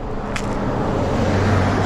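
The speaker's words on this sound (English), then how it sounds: "Let's just wait a minute for this car to leave." Car pulling away along a road beside a bike lane with storm drains, a steady engine and tyre rumble that holds close and slightly swells toward the end.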